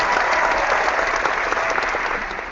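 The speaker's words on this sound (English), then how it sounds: "I'll let my applause die down first" A studio audience applauds a guest arriving on a comedy talk show, a full, even burst of clapping and light crowd noise that tapers off at the end.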